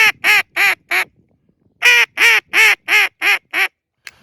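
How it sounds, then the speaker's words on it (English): Duck call blown with plain straight notes, two quick series of loud, evenly spaced nasal quacks, four then six, close up, with a short pause between. "Most people, when they run a duck call,"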